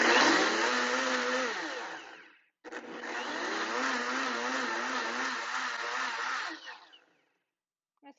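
A blender whirs loudly in two long pulses separated by a brief pause, mixing gluten-free Dutch baby batter, with a short tail as it stops; no talk.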